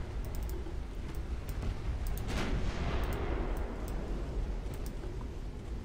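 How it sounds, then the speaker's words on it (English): Torpedo hits exploding on warships in the naval battle game Ultimate Admiral: Dreadnoughts, a steady loud rumbling barrage that swells into a broad blast near the middle, with sharp crackling impacts and no voices. "There's another torpedo hit."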